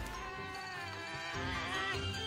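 A Felyne cat character in the Monster Hunter game gives a soft meow over steady background game music. No one speaks over it.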